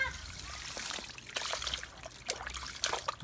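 Water splashes and trickles as dirt is washed off freshly dug wild yams outdoors, with irregular nearby pours and splatters at moderate volume.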